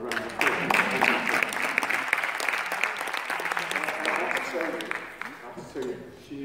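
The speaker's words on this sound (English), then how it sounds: "but I'd like to give her a round of applause." An auditorium audience of PhD students gives a sustained round of applause, loud and full for several seconds before tapering off, with voices mixed in.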